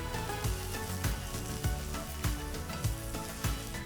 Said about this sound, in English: So make sure you fry the vegetable nicely before adding all the masala powder.